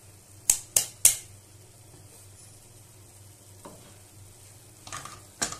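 A spoon clatters against a pan of crab curry with Chettinad masala powder, giving three quick sharp knocks followed by fainter stirring scrapes and a final clink, with no talking.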